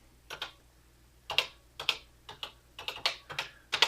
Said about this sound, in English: So I'm going to type in audio on.